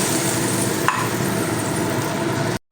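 Water poured into hot mustard masala in a pan for a hilsa mustard curry, giving a steady, loud, close hiss and sizzle with one brief clank partway through, then cutting off abruptly.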